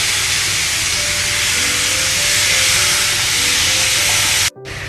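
Chicken for Kerala-style chicken perattu hits a hot pan and erupts in a loud, steady, close sizzle that holds for about four seconds before cutting off abruptly.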